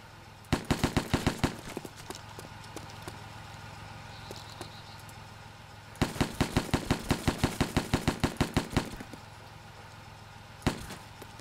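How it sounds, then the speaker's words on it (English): Bursts of rapid automatic gunfire in an online shooter video game, two long volleys of sharp evenly spaced shots with a single shot at the end, fairly close and loud with brief quiet gaps between. "It sounds like the bullets are coming from your direction."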